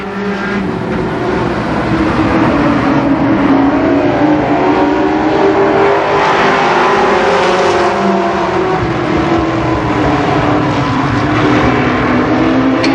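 Limited sportsman stock cars race in a heat at Columbus Motor Speedway, a loud dense engine roar that swells and fades in pitch as the pack circles the track.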